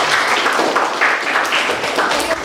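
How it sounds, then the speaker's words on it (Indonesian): A class of high school students gives a round of applause to the group that just presented. The clapping is steady, dense and loud throughout, with a faint murmur of voices underneath. "Silahkan kita beri aplaus kepada kelompok yang tampil."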